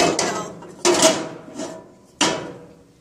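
A cast iron lid set onto a cast iron pan, three distinct clanks and scrapes of heavy metal on metal spaced about a second apart, close and fairly loud, each ringing briefly before fading.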